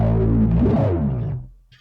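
A bass guitar played through a distorted auto-wah pedal, with sweeping filtered tones over a thick low end, sustained and loud before fading out near the end.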